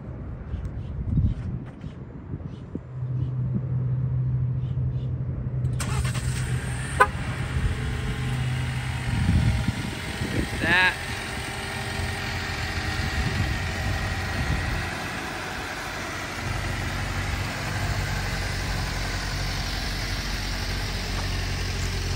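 A 2021 Jeep started with an aftermarket Viper remote starter, then idling: a brief starter crank followed by a steady low engine rumble, close by, continuing to the end.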